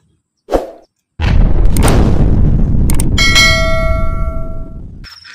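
A grenade is thrown in a shooting video game: a short thump, a brief pause, then a loud booming blast that rumbles on for several seconds while bright ringing, bell-like tones rise over it and fade out.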